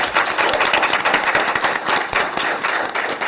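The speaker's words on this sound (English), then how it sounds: "Please give him a round of applause." An audience at a school leadership event claps for a school principal in a steady, lively round of applause that holds throughout the short stretch.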